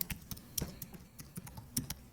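Keys tapped on a computer keyboard in short, scattered clicks and light double-taps, quiet and close, with no voices.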